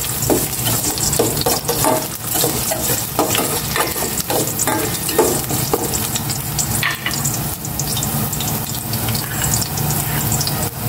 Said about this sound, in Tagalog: Maglagay na ako ng cooking oil. Gisa ko na itong luya.